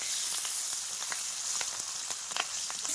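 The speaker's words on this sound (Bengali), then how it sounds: "গোটা শুকনো লঙ্কা, ইলিশ মাছের মাথা আর লেজা, গোটা কাঁচা লঙ্কা, লবণ, হলুদ গুঁড়ো, নাড়াচাড়া করে নেব" Hilsa fish head and tail stir-frying in a pan with whole dried and green chillies, salt and turmeric, giving a steady close sizzle with scattered crackling pops throughout, no voices.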